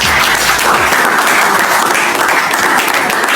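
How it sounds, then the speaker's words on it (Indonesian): A class of high school students split into groups applauds in a classroom, steady close clapping from many hands that stays loud and even throughout. "kalau jelas kita beri aplaus dari kelompok"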